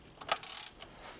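A fitting is tightened by hand during a car A/C repair, producing a short burst of quick metallic ratcheting clicks with a faint high ring, close by and brief.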